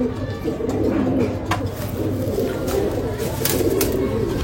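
Low, steady cooing from Sambhal desi pigeons fills the space nearby, joined by a few faint clicks and flutters.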